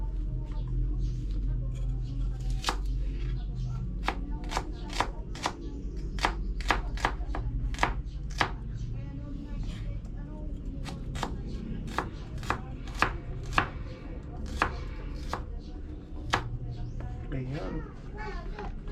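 Knife chopping onions for Ilocano tinola on a board, a fast, uneven run of sharp taps heard up close over a steady low background hum with faint voices.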